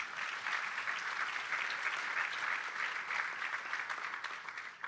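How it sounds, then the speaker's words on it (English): Steady, dense applause from an audience at a South African supply chain conference, sustained and fairly loud for the whole stretch with no voices on top. "maybe a more inspired applause for the team up there"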